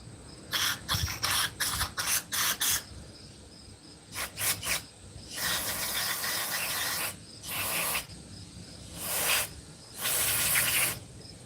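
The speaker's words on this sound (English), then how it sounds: "We're gonna spray straight through this." Bursts of aerosol cleaner hiss through the jets of a 2005 Honda Foreman 500 carburetor, first several short rapid puffs, then longer sustained blasts with brief pauses between them.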